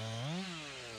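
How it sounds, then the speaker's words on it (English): A chainsaw cuts logs into firewood at a community woodshed in Waldo County, its engine whining up briefly before settling into a steady, close drone with no talking. "Chainsaws and splitters transforming logs into firewood."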